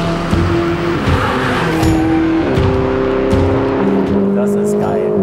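Ferrari 488 sports car with a 670 PS engine under way, its loud, steady engine note rising and shifting through gears, with faint tire squeal and some background voices.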